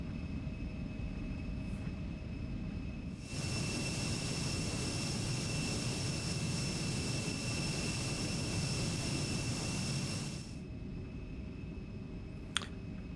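E-Jet airliner engines spooling up for the takeoff roll in the X-Plane flight simulator, a steady jet roar with a high whine that swells in, holds for several seconds, then cuts away.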